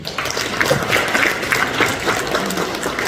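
Audience applause at a Yeoju Garamhoe club president inauguration ceremony, a steady crowd clapping that fills the whole stretch at moderate loudness without speech over it.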